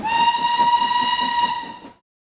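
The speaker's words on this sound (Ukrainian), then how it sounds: "Так, це потяг." A steam train whistle sounds one long, steady multi-tone blast over a hiss of steam, then cuts off abruptly into silence.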